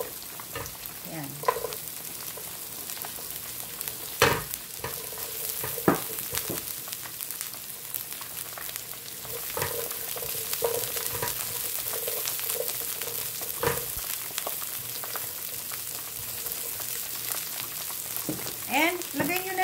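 Onion frying in two tablespoons of vegetable oil for chicken katsu curry, a steady close sizzle with occasional clinks and scrapes of stirring, with brief faint voice traces, no clear speech.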